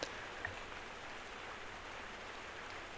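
Steady rain falls just beyond an open doorway, a dense, even hiss of drops that holds at a moderate level throughout, with no voices.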